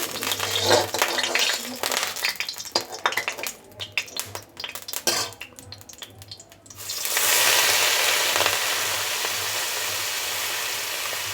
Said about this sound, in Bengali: চিংড়ি মাছটা আমি ভেজে নিচ্ছি। চিংড়ি মাছটা একটু ভালোভাবে ভাজবো।